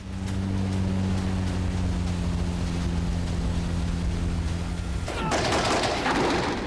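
Gunfire from helicopters overhead strafes the sea around a Magura sea drone, a sudden loud burst of crackling shots and splashes breaking in after several seconds of a steady, droning boat engine.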